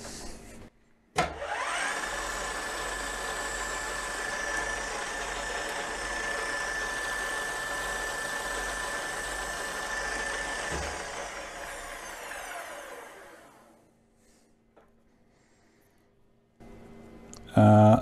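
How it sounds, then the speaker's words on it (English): A spotting drill bores into a metal timing belt gear held in a parallel clamp on a machine, a steady loud whirring grind lasting about ten seconds before spinning down, followed by a sharp clank at the end. "I can come back with my spotting drill."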